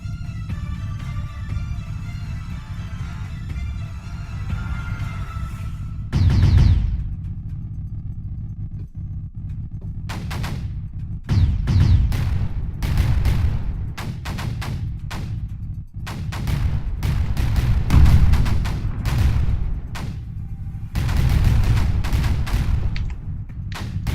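Mortar fire in the video game Creeper World 4 thumps and booms repeatedly over a low continuous background, with clusters of sharp blasts recurring across the stretch.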